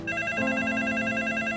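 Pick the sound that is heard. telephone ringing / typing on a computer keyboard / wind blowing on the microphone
telephone ringing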